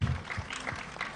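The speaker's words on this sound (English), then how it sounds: "Give a big applause." Audience applause at a tech global summit in Andhra Pradesh, a short burst of broad clapping with a low voice-like rumble near the start.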